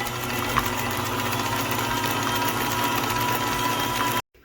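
An electric mixer beats pumpkin spice cheesecake batter, giving a steady close motor whir with a faint rattling hum, running continuously before cutting off abruptly near the end.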